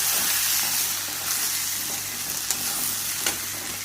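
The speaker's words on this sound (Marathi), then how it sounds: "आता एकाचे तांदूळ पण भाजून घ्यायचे, छान भाजून घ्यायचे." Rice is roasted in a single pot alongside vegetables and beans for Maharashtrian masale bhaat, producing a continuous close frying hiss with a few soft stirring scrapes and taps.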